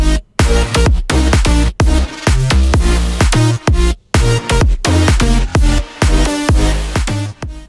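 Future house synth drop built from one shots and white noise, loud punchy chopped synth stabs and heavy bass in a tight driving rhythm, with short gaps between phrases.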